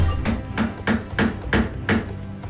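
Hammering nails to build a wooden ramp in the Nancy Drew video game: six sharp, evenly spaced hammer blows, close and clear, with no voices.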